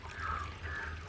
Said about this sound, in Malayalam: വെള്ളം അങ്ങനെ ചാടിക്കൊണ്ടിരിക്കുക